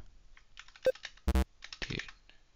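Computer keyboard keys clicking while someone plays the Chrome no-internet dinosaur game, a few close, sharp taps with one loud double press near the middle of a quiet stretch.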